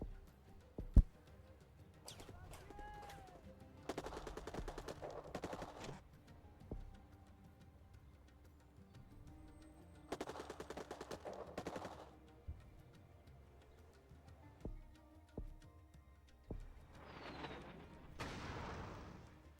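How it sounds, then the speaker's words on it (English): Airstrike in the strategy game Rebel Inc, heard as quiet bursts of rapid gunfire and explosive crackle in several clusters with pauses between them, alone with no talking. "Airstrike."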